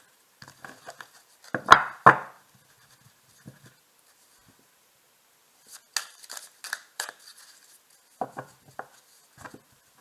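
A deck of tarot cards is cut and handled, giving short papery riffles and taps in scattered bursts separated by near silence, close and fairly quiet.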